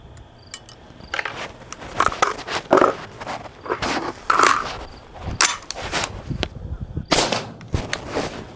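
Suppressed shots from an 18-inch rifle with a longer, adjustable gas system, fired as a series of sharp, close reports spaced through the span with some mechanical clatter between them.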